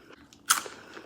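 Crunchy pita chips bitten once, a sharp close crackling crunch followed by a brief softer chewing tail, with no talking.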